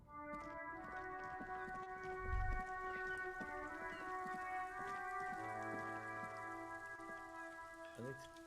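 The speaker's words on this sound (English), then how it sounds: "rain falls on the great city of Revachol. Rain drips from the eaves and floods the gutters" Steady rain pattering and dripping over a city in the video game Disco Elysium, a constant soft wash under sustained musical tones, with a brief low thump partway through.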